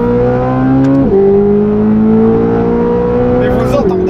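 Naturally aspirated V8 of a Corvette C8 Z06 revving loud and close, a steady high-pitched howl with two sharp drops in pitch as gears change, continuous throughout.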